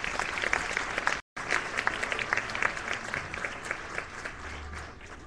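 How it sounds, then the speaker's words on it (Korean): Audience at a forum speech clapping in sustained applause, a dense, even roar of many hands, fairly loud and continuous, with one brief cut to silence near the start. "박수 합니다"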